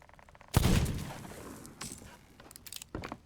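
A single loud gunshot rings out in a pirate-themed video game as a bullet is fired at a chest. A sharp crack is followed by a decaying tail, then fainter clatter and a second smaller impact.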